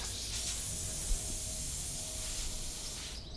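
Compressed air hissing steadily from a tire puncture repair tool, a constant close hiss with a small knock partway through, cutting off at the end.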